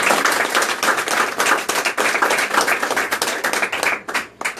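A church congregation applauds with dense, steady clapping for several seconds, loud and close, then it thins toward the end.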